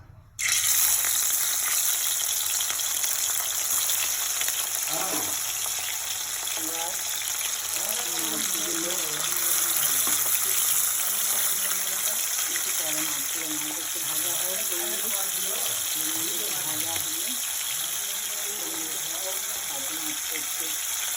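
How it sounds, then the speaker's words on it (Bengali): Fish sizzling steadily in hot oil, a loud continuous hiss with a voice murmuring faintly beneath it. "এবার একটু একটু করে মাছগুলোকে ছেড়ে দেবো"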